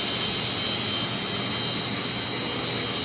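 Domestic water pumps in a large boiler room run as a steady, loud mechanical drone with a constant high whine, continuous and unbroken throughout.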